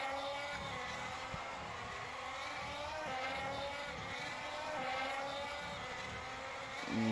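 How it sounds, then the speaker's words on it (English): Formula 1 cars heading out onto the Red Bull Ring track for sprint shootout qualifying in Austria: distant, steady engine drone with rising and falling tones as cars pass, under a constant broadband background. "As cars start to come out on track now for this 10-minute qualifying session."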